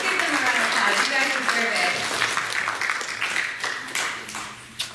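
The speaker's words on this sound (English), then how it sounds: "let's give them a round of applause" Audience applause at a high school Model UN closing ceremony, dense clapping mixed with talk that fades and thins out over a few seconds.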